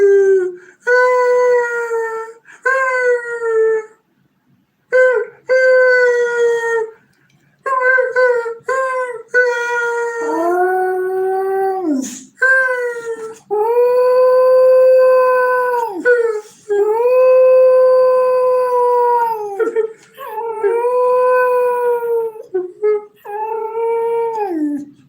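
A dog howls loudly and close in long, wavering, siren-like notes broken by short pauses and whimpering yips, continuing for about twenty-five seconds.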